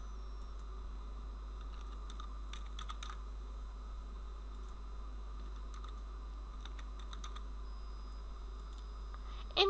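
Scattered keystrokes on a computer keyboard as a username and password are entered, light irregular clicks in short bursts over a steady low hum, with no voices.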